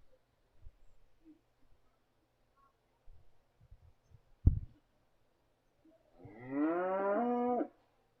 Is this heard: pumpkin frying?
no